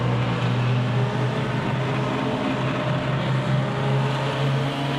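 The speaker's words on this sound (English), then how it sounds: "You can hear the engine just chugging away." A club race car engine at Silverstone chugs with a low, steady drone that hovers at a constant pitch, heard from a distance under ambient track noise.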